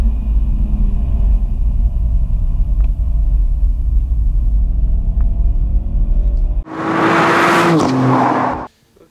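A 2016 Ford Focus RS Mk. 3 engine rumbles low and loud, then roars sharply for a couple of seconds before cutting off abruptly.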